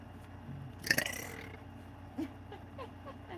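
A woman lets out a single loud, close belch about a second in, followed by quiet room sound with faint rustling as laundry is folded.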